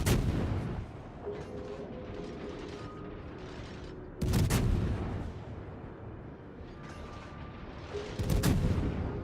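Warship main guns fire in a World of Warships naval battle as a few loud, spaced booming salvos, each followed by a rolling decay over a quieter background of game ambience.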